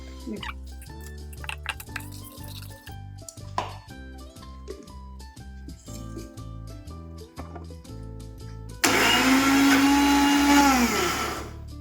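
Moong dal is ground in a mixer grinder, heard as a loud whirring motor burst in the last few seconds, preceded by background music with no talking.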